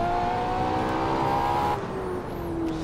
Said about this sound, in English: That was pretty much full revs on the motor.